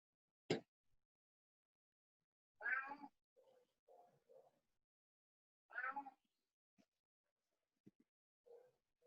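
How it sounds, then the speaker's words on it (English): A cat meows a few times at a distance in an otherwise quiet room, with soft thuds and small shuffling noises between calls. "You can maybe hear my cat"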